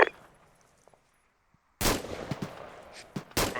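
Sharp bursts of rapid gunfire in the military video game Arma 2, loud and close after a near-silent stretch, with a second burst following shortly after.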